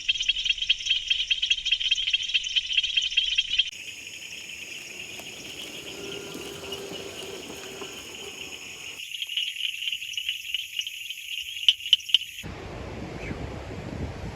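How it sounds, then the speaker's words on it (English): An Argus reed frog with its vocal sac extended gives repeated high, rattling clicks amid a chorus of insects and other frogs in the night outdoors, with a faint background hiss. "here's a really good Argus reed frog. He's just hanging out here with his vocal sac extended"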